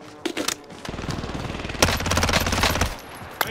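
Rapid automatic gunfire in a video game, bursts of machine-gun fire rattling close and loud for a couple of seconds after a few scattered single shots, with no talking.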